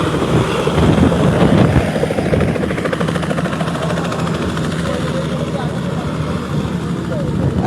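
A helicopter idles nearby before takeoff in Sylhet, Bangladesh, its engine droning and rotor thumping in a steady rhythm, loud and continuous, with a voice talking over it.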